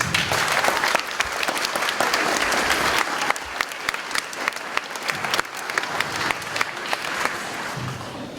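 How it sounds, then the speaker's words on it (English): Audience at a school all-school meeting applauding orchestra students, sustained dense clapping from a crowd, steady and fairly close, with faint voices underneath. "Nice round of applause."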